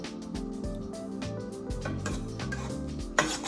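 A spoon stirring apple preserves in a pot, soft scraping and clinking against the metal under a steady background hum, ending with a sharper knock.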